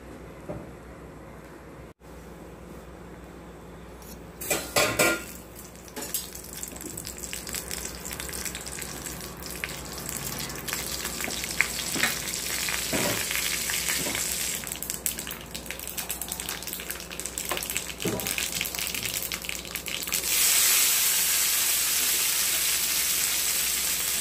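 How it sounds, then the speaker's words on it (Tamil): Mustard seeds, curry leaves and dried chillies hit hot oil with a sharp crackle, then a steady sizzle and spatter builds and grows louder toward the end. "நம்ம கடுகு கறிவேப்பிலை காஞ்ச மிளகாய் போட்டு தாளித்து"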